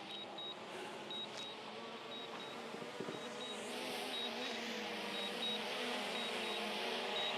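A DJI Mini 4 Pro drone returns to land, its propellers producing a steady high-pitched insect-like buzz that grows louder as it approaches, accompanied by a repeating faint electronic beep.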